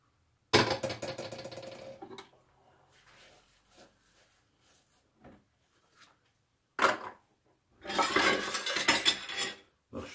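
Dirty dishes are washed in a kitchen. Plates and cutlery clatter and clink in bursts with water running, quieter handling sounds fall in between, and a loud stretch of scraping and rattling dishes returns at the end.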